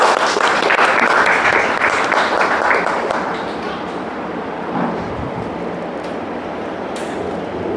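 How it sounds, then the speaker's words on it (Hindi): Enthusiastic applause from a church congregation at a Hindi-language worship service, dense steady clapping that starts loud and gradually thins and softens toward the end. "एक जोरदार ताली"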